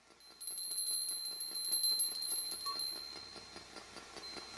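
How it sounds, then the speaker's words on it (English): A small bell rung repeatedly in a quiet house, bright rapid chiming strokes that go on for several seconds and slowly fade, heard alone without talk. "Do you like this bell?"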